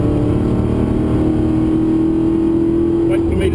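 A V8 race car accelerating on the Pukekohe track in Auckland, heard from inside as a loud, steady engine drone with a rising tone, while a voice talks over it.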